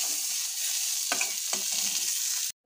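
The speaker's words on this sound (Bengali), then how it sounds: "চিকেন একটু ভাজি করে নিচ্ছি" Chicken frying in a pan gives a steady, close sizzle, broken by two brief stirring scrapes before the sound cuts off abruptly.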